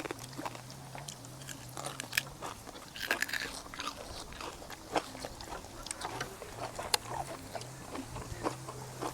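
Crispy fried pork belly is bitten and chewed up close, producing repeated quiet crunches at an uneven pace over a low steady hum.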